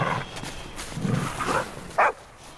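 Animated dog Krypto from the Superman preview lets out a couple of short barks amid film score and trailer sound, with one sharper, louder bark near the end.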